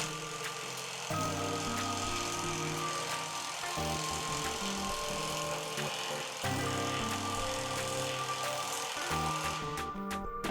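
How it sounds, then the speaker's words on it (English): A GISAM 1800Nm impact wrench tightens a nut for about ten seconds, a loud continuous buzzing hammer rattle with rhythmic surging pulses that shift in pitch, close and without talk. "we're tightening this nut for 10 seconds"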